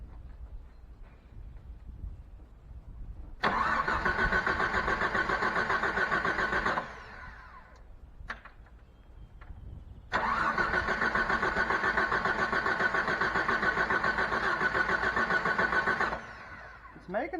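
A Jeep that sat unused for three years cranks hard in two long, loud bursts of several seconds each, separated by a quieter pause, without catching and running.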